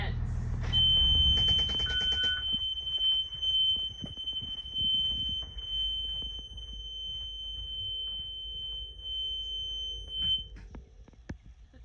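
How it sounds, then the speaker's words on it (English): A school bus child check alarm sounds as a long, steady high-pitched electronic tone lasting several seconds, with a few brief beeps at the start, over a low engine rumble and handling noises. "go back and hit our child alarm system"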